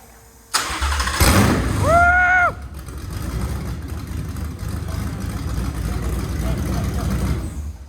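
A flat-plane Voodoo V8 fitted in a Mercedes sleeper cranks with a whining starter and then fires for the first time, settling into a rough, loud idle that carries on to the end.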